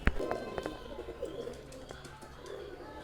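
Pigeons coo softly amid scattered wing flutters and light clicks, fairly close, with no talking.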